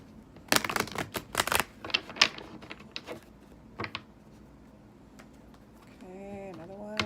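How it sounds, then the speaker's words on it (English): Tarot cards are shuffled by hand in a quick series of crisp riffling, clattering bursts close to the microphone over several seconds, followed by a short vocal sound at the end. "Do a couple more shuffles."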